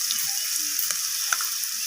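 Vegetables fry in a pan with turmeric and salt for a Bengali red amaranth and eggplant dish, giving a steady close sizzle with a few light stirring clicks.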